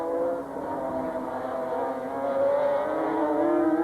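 500cc Honda racing motorcycles accelerate hard through the gears at the 1987 British Grand Prix, their engines producing a sustained, rising multi-toned whine that swells louder near the end.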